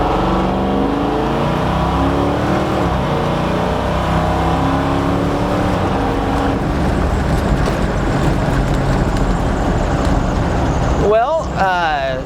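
A 1966 Ford Bronco on 37-inch tires accelerates during a test drive, its engine a steady loud drone with rising pitch under continuous road and tire noise, a short sweeping whine near the end.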